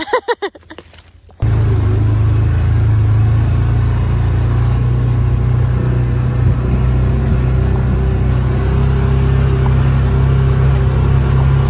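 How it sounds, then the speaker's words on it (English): A side-by-side utility vehicle's engine drones loud and close at a steady pace while driving, after a brief burst of clattering noise at the start. "Out for a side-by-side ride."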